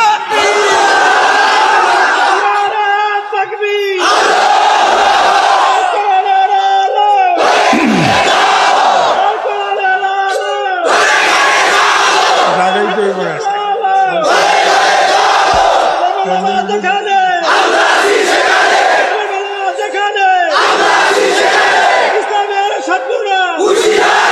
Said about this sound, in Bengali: নারায়ে তাকবীর বললে শয়তান যায় না থাকে, হাত জাগাইলে শয়তান নারায়ে তাকবীর বলে আর যায় না থাকে, যায় না থাকে বলে নারায়ে তাকবীর চলছে